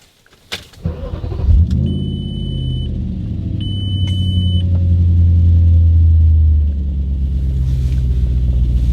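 An Audi B7 RS4 engine with EPC and check engine lights on cranks and catches with a burst, then settles into a steady idling rumble while a couple of electronic chimes sound over it.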